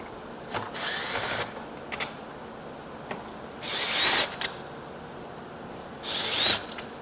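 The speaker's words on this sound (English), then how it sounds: "drill 3 holes," A power drill whirs in three short bursts a few seconds apart, drilling holes while installing a new construction door, with faint clicks and handling noise between them.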